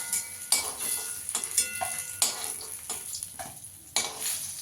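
Eggplant slices sizzle and crackle in hot oil in a pan, with a steady frying hiss broken by bursts as pieces are stirred or turned and occasional utensil clinks, close and moderately loud.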